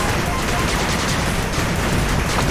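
Machine guns rattle in a retro-styled real-time strategy game battle, a dense, unbroken roar of loud overlapping fire with a faint hint of unit voice lines mixed in.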